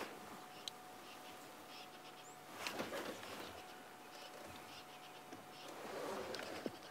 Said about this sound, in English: you can hear the sound of the bird calls alarming all around us